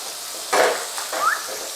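Chorizo and risotto rice frying in a pan, a steady close sizzle with a sharp surge as ingredients go in, then softer crackling and stirring scrapes.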